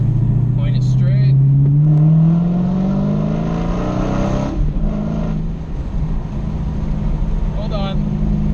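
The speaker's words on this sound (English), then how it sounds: "do another acceleration right here. We'll use second gear this time." A 2016 Dodge Challenger Hellcat with a six-speed manual accelerates hard in second gear, its loud engine note rising steadily in pitch before easing off and settling to a steady drone, with brief voices over it.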